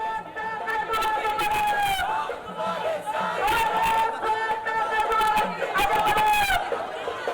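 Large crowd gathering for a political protest march in Mumbai's Fashion Street area against the Election Commission, loud continuous shouting, cheering and chanting voices close by with bursts of rising calls throughout.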